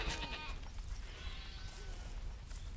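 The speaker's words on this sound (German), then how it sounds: "Wir können ja schon mal so ein paar hundert Schafe mitnehmen." Sheep bleat in the video game Overlord Raising Hell, several overlapping wavering bleats from a flock, moderately close over continuous game ambience.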